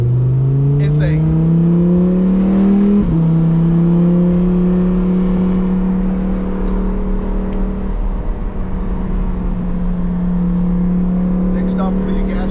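A Lamborghini Huracan Performante engine pulls hard under full throttle, its rising tone dropping sharply at a gear shift before climbing again into a steady loud drone heard from inside the car.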